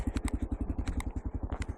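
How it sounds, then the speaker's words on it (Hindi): A motorcycle engine idles nearby at the mountain top of Chanshal Pass, a steady rapid low thumping with faint rattles above it. "तो बाइक अभी मैंने ऑन रहने दिया है"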